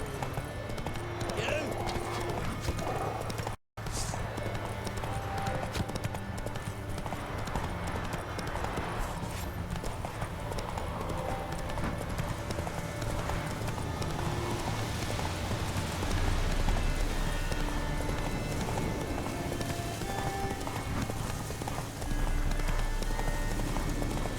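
Roach the horse gallops in The Witcher 3, hooves clip-clopping in a fast steady rhythm over rain and ambient game sound, with some talking.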